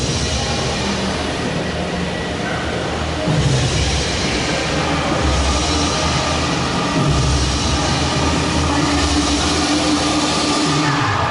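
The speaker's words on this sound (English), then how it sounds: "See the train back there." A train rolls past a backlot street at Universal Studios, a steady, loud rumble of rail cars with rhythmic clatter running throughout, no talking.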